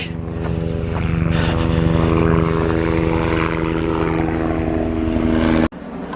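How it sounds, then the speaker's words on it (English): A helicopter flies over a hilltop pine forest, its engine a steady drone with a strong low rhythmic throb, loud and sustained, then cutting off abruptly near the end. "Here, a helicopter."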